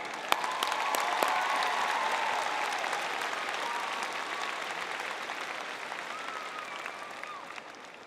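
Applause from a convocation audience at a spring nursing faculty ceremony, steady and sustained across the whole stretch, with faint scattered cheers above it.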